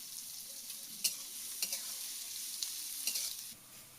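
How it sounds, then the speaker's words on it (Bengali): Onions frying in oil with chillies, bay leaf, cumin and salt for a mutton curry, giving a steady soft sizzle with a few sharp spoon scrapes and clinks against the pan; no talking. "পেঁয়াজ দিয়ে দিচ্ছি ভাজা"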